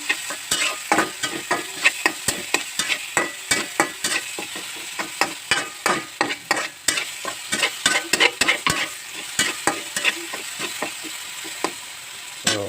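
A mixture is sautéed in a pan while a utensil scrapes and stirs it repeatedly, with steady rhythmic clacks over a constant hissing sizzle, close and fairly loud, with no talking.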